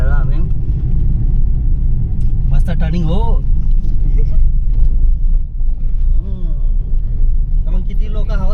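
Steady, loud low rumble of a car driving with all windows shut and the AC running, a dense road and engine drone throughout, with people chatting over it inside the cabin.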